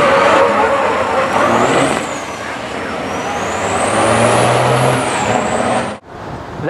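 Heavy truck engine roars loudly at a drag strip, its pitch climbing and sweeping as it accelerates, with air-brake-like hiss and vehicle noise throughout, then cuts off abruptly near the end.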